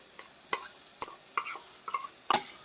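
Onion paste with coriander, cumin and garlic paste being stirred in a cooking pan for a fish curry: about six short scraping strokes of a spoon, spaced roughly half a second apart, close and fairly quiet, with no talking.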